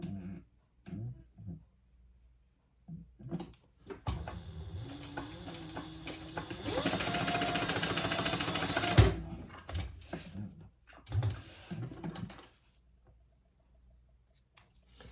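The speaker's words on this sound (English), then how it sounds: "now we're going to sew below the top card slot" Sewing machine stitching a seam below the top card slot of a small wallet, a burst of fast, even needle chatter lasting several seconds, with quieter handling sounds and brief pauses before and after.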